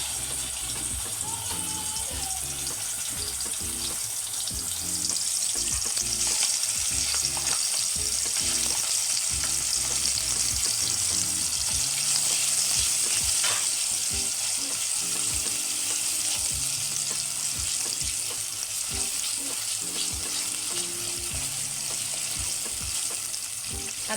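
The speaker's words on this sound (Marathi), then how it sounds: "आता ह्याच्यामध्ये आपण जे मिरची आणि धण्याचं वाटण केलेलं ते ॲड करूया।" A chili and coriander paste sizzles steadily in hot oil with a few triphala for a Malvani surmai fish curry, with stirring scrapes over the constant loud frying.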